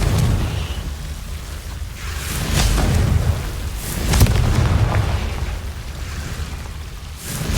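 A Confringo fire spell explodes in the Hogwarts Legacy video game, a loud booming blast with a deep rumbling low end. Several bursts swell and fade over a few seconds, with a sharp peak near the middle.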